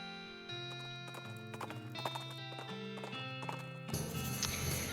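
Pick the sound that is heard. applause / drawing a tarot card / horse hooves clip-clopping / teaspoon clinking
horse hooves clip-clopping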